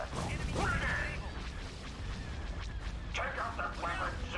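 Ion cannons fire in a Star Wars space strategy game battle, booming artillery-like blasts and mechanical rumble rolling under a steady background, with a few sharper shots toward the end.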